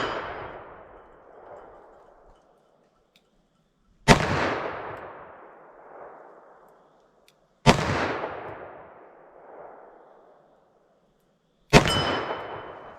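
.357 Magnum 180-grain rounds fired at a steel plate 25 yards away: four loud, spaced shots, each followed by a long ringing decay from the struck steel.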